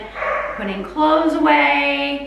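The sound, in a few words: dogs barking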